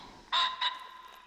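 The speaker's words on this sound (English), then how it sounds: "That sound is ringneck pheasant." Two quick, harsh squawking calls from a ring-necked pheasant in the video game Hunter: Call of the Wild, fairly close, the first louder than the second, then quiet.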